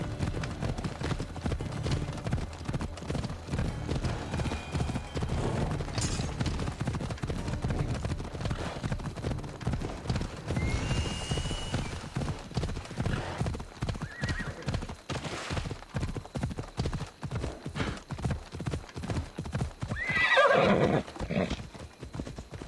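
Horse hooves clip-clop steadily throughout as a mount rides in Assassin's Creed Odyssey, with a loud whinny near the end; faint voices and game ambience sit underneath.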